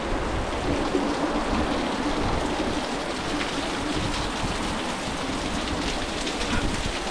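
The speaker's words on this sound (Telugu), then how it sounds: "ఎక్కడ చూసినా మీకైతే చిన్న చిన్న వాటర్ ఫాల్స్ అయితే మీకు కనిపిస్తాయి" Small waterfalls pour over rocks near a cave at a hillside pilgrimage site with many water pools, making a dense, continuous rushing roar that stays even and close throughout.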